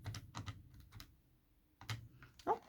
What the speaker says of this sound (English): let's type it off screen